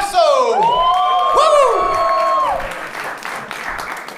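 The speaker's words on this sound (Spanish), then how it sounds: "¡Fuerte aplauso!" A live audience at a talk show applauds loudly, with whoops and high whistling cheers over the clapping, which then fades down toward a lighter murmur.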